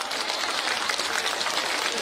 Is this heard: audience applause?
yes